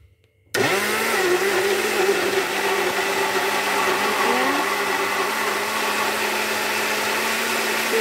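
A blender blends mango smoothie without added water, starting abruptly and then holding a loud, steady motor whine with churning, close and continuous, with no voices.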